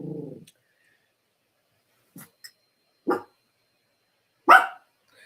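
A dog barks in a few short, separate bursts in a quiet kitchen where eggs are boiling, with long silent gaps between them and one louder final bark.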